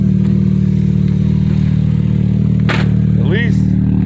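A 2001 Hyundai Tiburon engine idles steadily with its new OBX exhaust, a loud constant low hum with a faint clatter, while someone talks over it.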